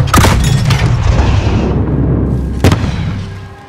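Two deep explosions in Call of Duty on a night battlefield, a loud blast at the start with a long rumbling decay, then a second sharp boom a couple of seconds later, close and powerful.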